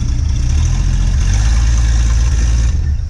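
A 1950 Chevy car engine runs loud and close, a deep steady rumble with a rough low-end throb that holds constant through the short stretch, with no voices.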